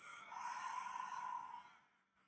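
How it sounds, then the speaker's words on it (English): A single long, slow exhale through the mouth during a beginner yoga breathing exercise, a soft breathy whoosh close to the microphone that fades out over about two seconds. "exhale through the mouth"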